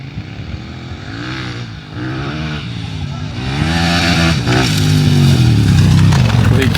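Motorcycles, including KTMs, rev loudly and repeatedly at the start line of an ADV 100-metre sprint race at the Spoke Motorcycle Festival, with engine notes rising and falling, then building louder with crowd noise and voices underneath.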